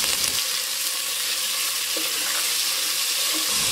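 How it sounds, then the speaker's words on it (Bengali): Chicken and chopped garlic fry in hot oil in a pan, giving a steady loud sizzle with a constant crackling hiss that runs through the whole stretch without a pause. "এবার রসুনগুলো একটু ভেজে দিয়ে দিচ্ছি চিকেন।"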